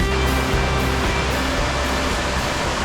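A mountain river on the Scafell Pike climb in the Lake District rushes loudly and steadily, a dense, constant broadband roar of flowing water heard close by, with no voices.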